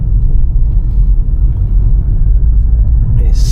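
A Porsche car drives along country roads in the Cotswolds, with a steady low engine and road rumble heard from inside the cabin and no talk.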